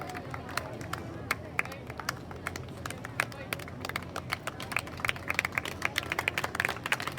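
An audience at a national school sports meet closing ceremony claps in scattered bursts, sharp hand claps rising over a murmuring crowd, moderately distant and building toward the end.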